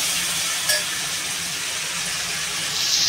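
Water pours into papaya curry in a hot pan, a loud continuous sizzling rush that runs unbroken for a few seconds without any talk.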